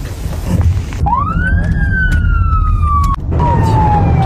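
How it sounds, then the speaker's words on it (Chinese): A police car siren wails close and loud over road traffic noise, a rising tone that holds and slowly falls, briefly cut off, then resumes with another sustained tone. "他一拉那个警笛车就都荡开了"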